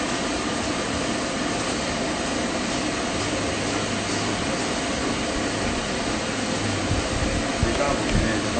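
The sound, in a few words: stand dryer blowing on strong setting for dog grooming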